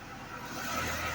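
A car engine idles shortly after a cold start following a vacuum leak repair, a low steady hum at moderate distance that swells slightly midway through the brief stretch.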